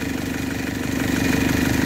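A KIA Pregio van's engine running steadily at idle, its low mid-range drone close and constant with a faint rhythmic pulse, no talking over it.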